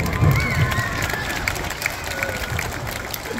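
Small group clapping and cheering at an outdoor bike trick show, a short burst of claps and shouts mixed with children's voices and talk.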